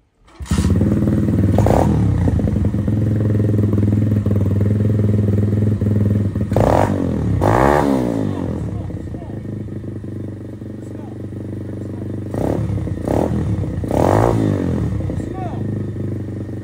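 A motocross motorcycle engine runs close by and loud, idling steadily and revving sharply several times, with people talking over it.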